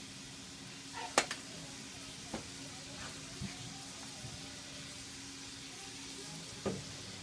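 Garlic and onion sizzle and fry in a hot pan for a low-carb taco bake, making a steady, fairly quiet hiss broken by a few sharp crackles and pops.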